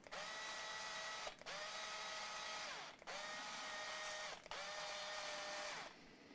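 A power drill winds a guitar string onto an Ibanez Gio tuning peg, four repeated whirring bursts whose pitch rises and then sags with a brief pause between each.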